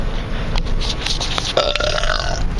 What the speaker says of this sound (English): Awesome burp.